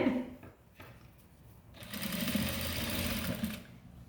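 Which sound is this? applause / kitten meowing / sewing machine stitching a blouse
sewing machine stitching a blouse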